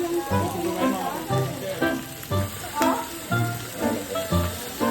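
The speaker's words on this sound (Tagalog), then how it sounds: "Ito mga talsik yung matika." Cooking oil sizzles and spits in a pan, a steady frying hiss with crackling splatters, while voices talk over it in short bursts.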